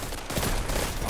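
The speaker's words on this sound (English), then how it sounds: "I got shot around a corner" A quick burst of rapid gunfire hits the player in a Destiny 2 Iron Banner match. It sounds close and harsh and lasts only about a second.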